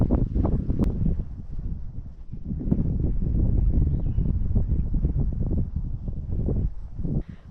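Steady wind buffets the microphone at a lakeside campsite on a rainy, cold Boundary Waters canoe trip, a continuous loud low rumble with gusty swells throughout and no voices.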